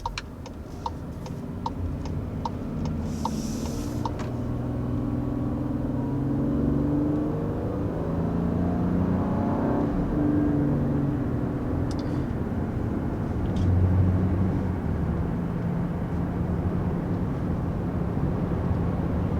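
Cabin of a 2021.5 Volkswagen Atlas R-Line driving at speed, a steady low road and engine rumble filling the interior, with faint ticking at the start and brief higher whooshes midway.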